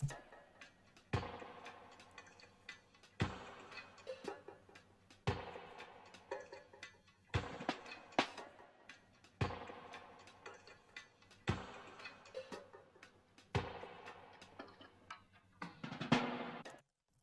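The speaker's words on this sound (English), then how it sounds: "I just wanted to add some percussion and some textures" Percussion and textured sounds in an FL Studio guitar sample, with pitch automation, play as a repeating pattern of sharp ticking hits about every two seconds over a steady low hum. Clicky, mechanical transients crowd between the hits, close and moderately loud, with no voices.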